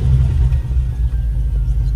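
A car engine during a burnout throbs with a loud, close, low rumble that swells slightly as the throttle is tapped, steady for the whole two seconds.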